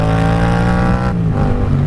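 Yamaha FZ-07 motorcycle engine running steadily while riding, a loud, close, continuous drone with even harmonics whose pitch dips slightly partway through, with no talk over it.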